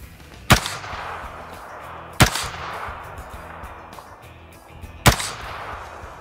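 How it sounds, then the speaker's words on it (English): Three separate rifle shots fired at targets crack loudly, spaced a couple of seconds apart, each with a sharp attack and a short decaying echo over a quiet outdoor background. "Pull the charging handle completely to the rear, couple deep breaths, and when you're ready, you may commence firing."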